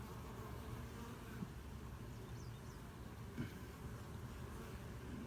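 Bees hum softly around an open nucleus hive during an inspection, a faint continuous buzz with occasional louder passes close by and no talking.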